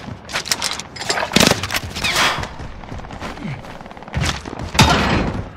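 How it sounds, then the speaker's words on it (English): Rapid bursts of gunfire ring out in a Call of Duty: Warzone match, irregular close shots and volleys with heavy thumps that trail into echoes, mixed with game radio chatter. "Taking fire."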